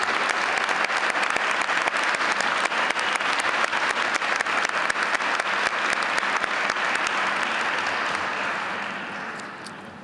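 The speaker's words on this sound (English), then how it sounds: "please let's give a rounding round of applause to the Master of Management Studies class of" A graduation audience applauds the Duke University Master of Management Studies class of 2012, a loud, dense, sustained roar of clapping from a large crowd that holds steady, then begins to fade over the last couple of seconds.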